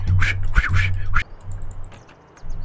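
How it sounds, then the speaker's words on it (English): Bird calls from the horror video game Welcome to Kowloon sound as loud, nasal, quack-like cries in a quick burst, then fainter chirps continue over a quiet background. "Why is there birds? I don't even see no birds."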